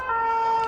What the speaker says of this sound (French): Je suis désolée pour le bruit de fond. C'était l'ambulance.